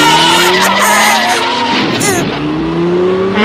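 Cartoon car in a Shinchan episode speeding and skidding, a loud, close tire squeal with rising and falling engine tones lasting a few seconds.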